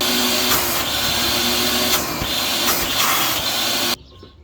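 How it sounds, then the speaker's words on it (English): A shop vac draws rust out of the oil filler spout of a 1973 Mercury Cougar XR7. The close, loud, steady motor roar has slight fluctuations in the suction and stops sharply near the end. "Let me use the shop vac actually to suck out any like rust from the"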